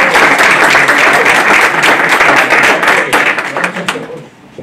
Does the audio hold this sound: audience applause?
yes